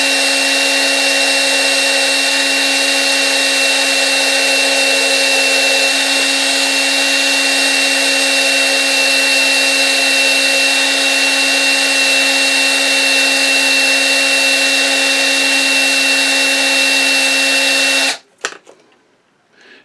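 A small electric drill motor whirs steadily at a low, even speed for most of the clip, then cuts off abruptly near the end.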